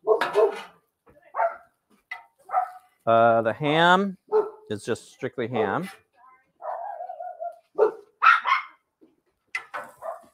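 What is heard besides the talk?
dogs barking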